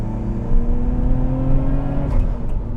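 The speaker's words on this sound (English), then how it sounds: "See there? The entire sound of the engine changes." A tuned Nissan Skyline R34 GT-R engine revs loudly and steadily, its deep rumbling drone holding high with a slight rise toward the end.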